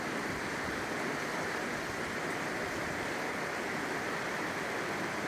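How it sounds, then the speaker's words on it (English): A river near Nishiyama Onsen in Hayakawa, Yamanashi rushes past in a continuous, even roar of flowing water, moderately distant with no other sounds. "Pretty river."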